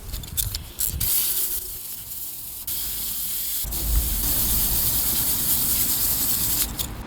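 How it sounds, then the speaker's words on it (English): Running water sprays steadily over the roots of a chilli plant as soil is rinsed off, a continuous close hiss with brief shifts in flow and no talk. "we're going to just rinse off those roots so that we can see what we have here"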